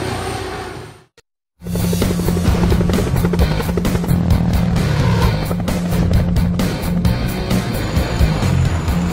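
A loud, steady helicopter rotor chop with rapid rhythmic thumping, close and continuous after a brief moment of silence.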